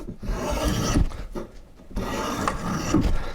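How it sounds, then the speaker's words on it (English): A spokeshave and drawknife shave the corners off wooden parts for a shave horse, giving steady rasping, scraping strokes close by: two long passes separated by a brief pause. "I'm going to use a spoke shave and a draw knife just to knock down the corners"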